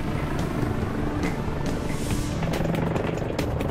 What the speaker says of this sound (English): Every second the EH-101 is in flight, its massive main rotor is shoving up to 45 tons of air out of its way.